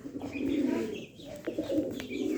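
A pair of American Lakha pigeons coo softly, a low rolling murmur with a couple of short breaks, close by and fairly quiet, with a few faint chirps around them.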